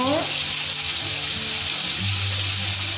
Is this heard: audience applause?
no